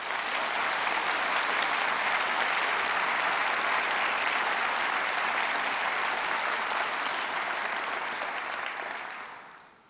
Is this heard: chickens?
no